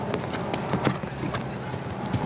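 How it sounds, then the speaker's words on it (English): Stallion's hooves clip-clopping steadily through a show jumping round at the Encana Cup, a continuous rhythmic beat of hoof strikes on arena footing with crowd ambience and a faint voice in the background. "The 13-year-old stallion Talobé is underway."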